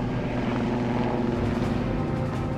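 Military helicopter flying over open desert, a steady loud rotor and engine drone with low throbbing hum held constant throughout, no voices.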